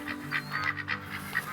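Ducks calling in the hunting game TheHunter Call of the Wild, a rapid string of nasal honking quacks close by, repeated several times over a soft background.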